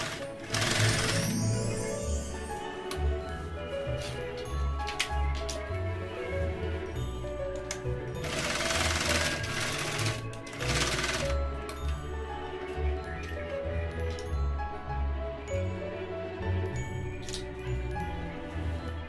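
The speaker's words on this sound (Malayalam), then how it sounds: "ഉള്ളിൽ വെച്ച് പുറം വശത്ത് തയ്ച്ചെടുക്കാം. 2 പ്രാവശ്യം സ്റ്റിച്ച് ചെയ്യുക." A sewing machine stitches a skirt made from a pillow cover, its rapid, rhythmic clatter running steadily and close for the whole stretch, with a few louder bursts of higher rattling and no talking.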